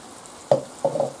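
Tomato and sugar are stirred in a pan for a chorizo macaroni sauce, with two brief scraping strokes over a quiet, low simmer.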